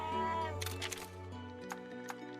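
A cat meows in the video game Monster Hunter Stories 2: Wings of Ruin, a few short, clear, tonal meows over a steady hum of game music, close and moderately loud.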